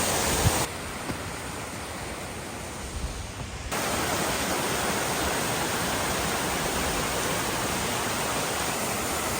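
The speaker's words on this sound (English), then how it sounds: "basically up the side of the waterfall" A waterfall beside a forest trail on Vancouver Island gives a steady, broadband rushing roar, nearby and constant, growing fuller and louder after a few seconds with no voices.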